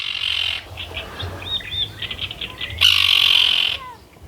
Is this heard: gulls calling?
yes